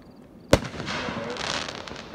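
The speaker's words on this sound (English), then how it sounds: "Are those fireworks right there?" A single sharp firework bang bursts out at a high school graduation display, followed by a spreading crackle and fizz that lingers for over a second.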